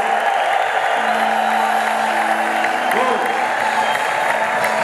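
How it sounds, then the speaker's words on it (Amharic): A crowd of worshippers at a pastors' conference in Ethiopia cheers and claps loudly, with sustained trilling ululation rising above the dense wash of applause. "እልልታችሁ ጀማ ለናዝሬቱ ለኢየሱስ"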